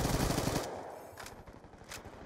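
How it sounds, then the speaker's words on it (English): A rapid burst of automatic fire from a sentry gun in a Call of Duty video game, loud and close for about half a second, then trailing off into scattered quieter shots and distant gunfire. "I think I just got hit by a sentry gun."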